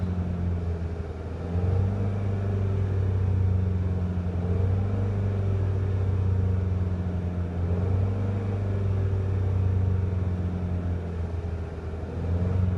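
A 2013 Dodge Dart Rallye with a 1.4L engine revving through a fly-by-wire throttle, a steady raised drone with slight dips and swells as the throttle is held, close and loud with no talk.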